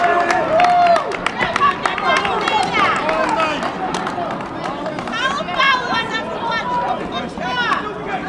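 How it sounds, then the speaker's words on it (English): Crowd at a girls' high school basketball game between Revere and Lawrence on the home court: a steady, busy murmur of many voices with scattered claps, shouts and sneaker squeaks throughout. "Hostile crowd."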